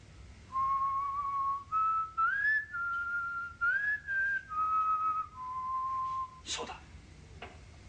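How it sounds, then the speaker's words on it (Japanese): A clear whistled melody of sustained, sliding notes with short pauses, ending with a couple of brief sharp noises. "口笛のメロディー僕も聞いたことがあるんだ"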